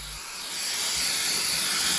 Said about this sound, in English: It's designed to direct steam into narrow spots